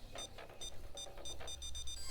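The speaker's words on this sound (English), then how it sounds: "That's the alarm, guys." An alarm sounds during a Payday 2 heist, a faint rapid pulsing electronic ring repeating in quick bursts with no talk.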